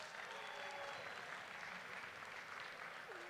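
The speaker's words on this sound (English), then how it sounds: "Will you give them one more round of applause?" A crowd at a university campaign kickoff celebration gives its hosts a sustained round of applause, a steady, even patter of many hands heard from a distance and fairly soft.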